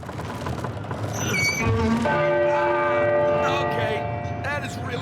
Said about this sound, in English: Ring that bell.